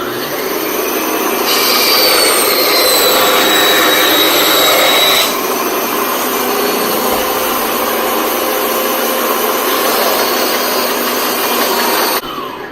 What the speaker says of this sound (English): This bandsaw works fine for this, cutting the stuff.